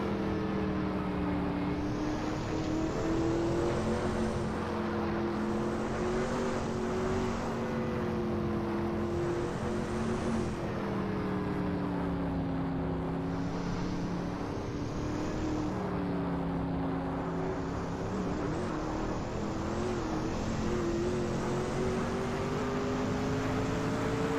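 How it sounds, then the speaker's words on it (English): A 1989 Mercedes-Benz C9 LM race car in a Le Mans racing game, its engine a loud, steady droning roar whose pitch rises and falls through gear changes and corners, with no talk over it. "That Mercedes-Benz C9 1989 LM looks good driving through Corvette"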